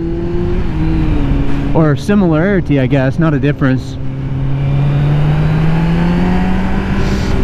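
A Kawasaki Z900 motorcycle fitted with a LeoVince slip-on exhaust is blipped through a quick series of sharp revs between a steady idle, loud and close, while someone talks over part of it.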